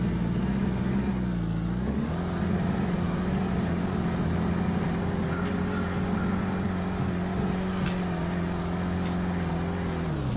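A heavy off-road truck engine in Spintires drones loudly and steadily, rising in pitch as it revs under throttle, then settling into a sustained growl with no speech.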